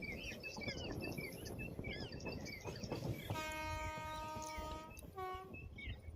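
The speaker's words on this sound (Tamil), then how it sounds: "வண்டி பார்த்திங்கன்னா நாகர்கோவில் கோட்டயம் அன்ரிசர்வ்டு எக்ஸ்பிரஸ்." The Nagercoil–Kottayam unreserved express rolls along with a steady clatter of wheels and carriages. A long horn blast sounds midway, followed by a shorter one, and birds chirp in the background.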